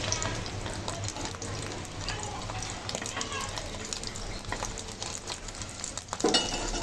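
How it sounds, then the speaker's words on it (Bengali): Sausages fry in a pan with a steady, close sizzle and crackle that stays fairly even throughout, with a brief louder flare near the end. "এই যে সসেজটা ভাজা প্রায় হয়ে এসেছে"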